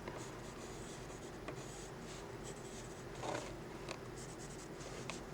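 Pen or marker strokes on paper while sketching a Lego sculpture, a steady close scratching with a few brief sharper scrapes and taps, faint and continuous with no talking.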